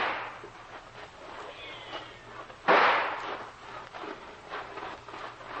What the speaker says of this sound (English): 2 shots, Captain.